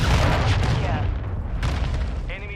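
Sustained booming rumble of a cruise missile strike in Call of Duty: Modern Warfare II, heavy low-end blasts rolling continuously through the whole stretch with mixed battle noise and a brief radio-like tone near the end.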